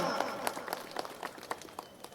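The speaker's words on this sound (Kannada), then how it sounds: "ಅವರು ಕೂಡ ಚಪ್ಪಾಳೆ ಮುಖಾಂತರ ಸ್ವಾಗತವನ್ನು ಕೋರೋಣ" A crowd at a farmers' road protest claps to welcome Kumaraswamy, scattered rhythmic handclaps at moderate distance, fairly faint, under a speaker's voice.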